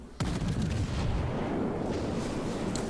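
Heavy naval gunfire from a battleship in World of Warships, with an Alabama firing at a North Carolina in a sea battle: a sudden loud boom opens into a sustained rumbling roar that stays dense and powerful throughout, with no talk.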